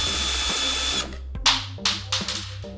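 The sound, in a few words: power drill removing skateboard truck bolts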